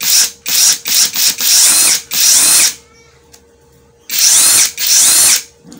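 A KEPU 12V brushless cordless drill spins in reverse in several loud, close whirring bursts of a second or less, separated by short pauses, then a longer silence before two more sustained runs.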